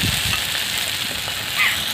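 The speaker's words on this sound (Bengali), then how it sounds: "আদা দিয়ে উচ্ছেগুলোকে ভালো করে 3-4 মিনিট একটু সুন্দর করে কষিয়ে নেব।" Sliced bitter gourd frying with ginger in an oil-filled pan, a close, steady crackling sizzle with soft stirring scrapes, heard alone without talk.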